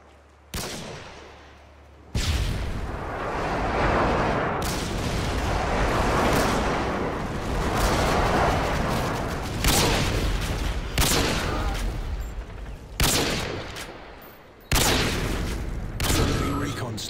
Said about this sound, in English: Predator missile ready for deployment.